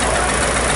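A Simca-built Somca 40 tractor engine runs steadily at an expo parade, a loud and dense mechanical drone that holds level without any break.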